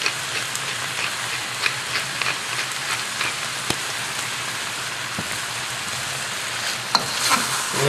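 Eel and onion wedges stir-frying in a wok with white and black pepper, a steady, close hiss and crackle of frying with occasional sharper ticks, no one talking.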